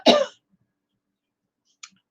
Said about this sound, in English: The cough that won't go away now.